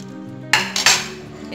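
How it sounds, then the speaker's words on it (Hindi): An oats banana pancake is lifted from the pan onto a plate, with a couple of sharp metallic clinks and scrapes of a spatula against cookware over a low kitchen hum. "अब हम इसे एक प्लेट पर निकाल लेते हैं।"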